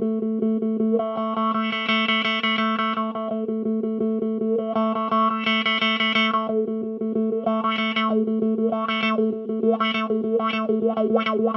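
Electric guitar run through a wah pedal with a distorted effects tone, a steady low note under sweeping filtered chords that open and close, the sweeps quickening into short rhythmic wah strokes near the end, loud and close with no talking.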